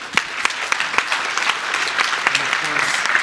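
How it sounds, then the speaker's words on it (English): An audience at a Cyberchess 2019 cybersecurity conference applauds a speaker, steady dense clapping throughout with a few louder individual claps and faint voices mixed in. "Let's give a large applause to the speaker."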